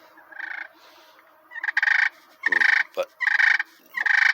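A handheld slate turkey call makes a series of rolling, fluttering purrs in short close bursts with brief gaps, and a single voice briefly speaks partway through.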